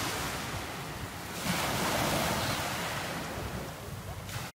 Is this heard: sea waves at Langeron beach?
yes